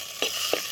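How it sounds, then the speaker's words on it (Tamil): Onions and tomatoes sautéing in a home kitchen pan with curry leaves, two brief stirring scrapes over a soft steady sizzle, close and alone. "வெங்காயம் நல்லா வதங்கிடுச்சு"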